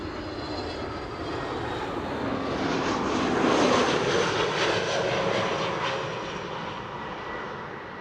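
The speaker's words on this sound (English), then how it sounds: "That was an EasyJet A320 Neo arriving from Gatwick." An EasyJet Airbus A320neo lands at Amsterdam Schiphol, arriving from Gatwick. Its engine roar swells steadily, peaks and then fades away as the jet passes, with no talk over it.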